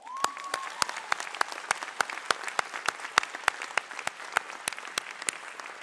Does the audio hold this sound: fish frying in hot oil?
no